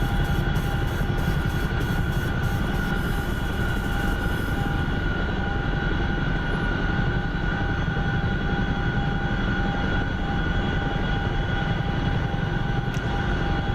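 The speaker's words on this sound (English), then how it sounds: "At least I'm getting really good with the Chinook, because I have to fly it so much lately" A Chinook helicopter flies in a video game, a steady droning rotor and engine roar holding constant throughout with no talking.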